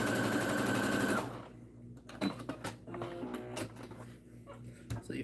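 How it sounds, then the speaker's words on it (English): A sewing machine runs in a fast, steady whir for just over a second while stitching fabric for a pencil pouch, then stops, leaving quieter clicks and handling sounds. "So you first sew it down."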